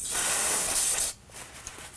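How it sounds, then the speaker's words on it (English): Brake parts cleaner sprayed onto a brake bleeder on a Nissan Armada caliper: one steady hiss of about a second, close and clear, then it cuts off. "Using some brake parts cleaner, we're going to go ahead and clean the bleeder."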